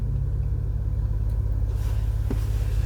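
A Cadillac ATS-V drives along in a steady low rumble from inside the cabin, engine and road noise constant, with a faint thump near the end and no one speaking.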